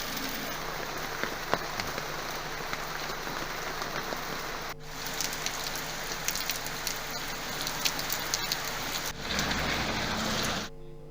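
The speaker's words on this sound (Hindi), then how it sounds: "मसूरी में मौसम का मिजाज पूरी तरह से बदला हुआ है और बारिश के चलते मौसम सुहाना हो चुका है।" Rain falls in Mussoorie as a steady, broad wash of patter and hiss at moderate loudness, broken by a couple of abrupt cuts, with no voices.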